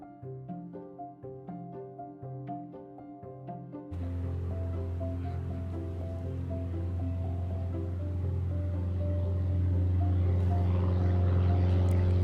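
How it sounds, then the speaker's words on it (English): A skydiving plane taxis toward the runway end before takeoff. A rhythmic propeller engine throbs at first, then swells into a loud, steady close-up drone that grows over the final seconds. "the flight has been taken from and it is moving to the runway, and now we are going to towards the end of the runway"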